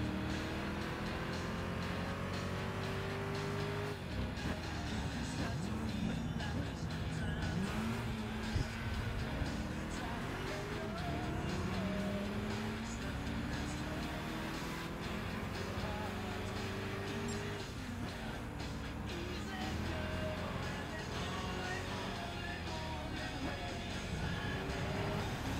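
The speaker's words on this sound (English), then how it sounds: "racing this car for the first time, racing this track for the first time" Race car engines roar on the track in Gran Turismo 5, a steady droning whine that rises and falls through gear changes, loud and continuous, with faint talk underneath.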